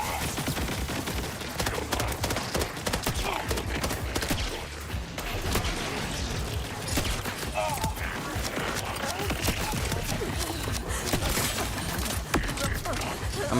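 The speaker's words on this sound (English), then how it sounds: "who keeps spamming the airstrikes?" Repeated airstrikes in Borderlands 4 hammer down as a dense, continuous barrage of blasts and crackling impacts, loud and unbroken for the whole stretch, with game noise layered throughout.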